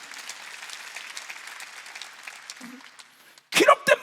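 Church congregation clapping during a Sunday worship service, a fairly faint rustle of applause under the room that fades out, then a preacher's loud voice cuts in at the end.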